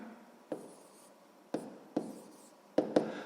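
Hand writing out a maths solution, a soft continuous pen scratch on paper broken by several sharp taps as the pen strikes the page, close and quiet with no talking.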